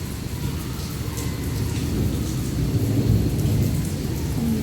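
Heavy, steady rain pouring down near a house with a low continuous rumble of thunder beneath it, loud and unbroken throughout.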